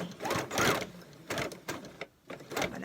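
A sewing machine stitches fabric for a tissue box cover, short loud whirring bursts of stitching broken by brief pauses, close up with no talk.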